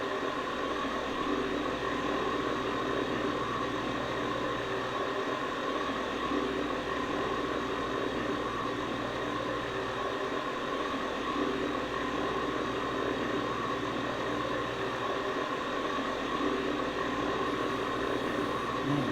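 In Microsoft Flight Simulator 2024, a bush plane's engine hums on throttled all the way back, giving a steady broadband drone with a low rumble that holds unchanged throughout, with no talk over it.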